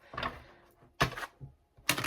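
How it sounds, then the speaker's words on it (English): A stiff, much-used tarot deck is shuffled in three crisp riffling bursts, each a quick crackling flutter of cards separated by short pauses, close and fairly quiet. "It's so hard for me to shuffle, so I apologize now."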